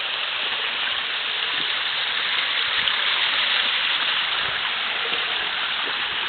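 Creek water flows and splashes steadily as someone wades through a stream behind a house, a continuous broadband rush with no pauses and no talking.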